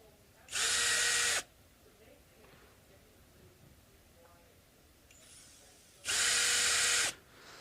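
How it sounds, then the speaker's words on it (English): A cordless power screwdriver removes screws from a Telecaster guitar in two loud whirring bursts of about a second each, separated by quiet handling. "So we just remove these screws."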